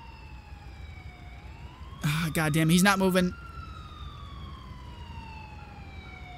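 An ambulance siren in the video game GTA 4 wails in long rising and falling sweeps at moderate distance, while someone speaks briefly over it midway.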